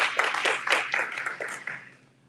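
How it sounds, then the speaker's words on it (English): A small crowd claps for the mayor at a Humphreys County candidate forum and meet-and-greet, a brief burst of scattered handclaps that thins out and fades within about two seconds. "let's give him a round of applause"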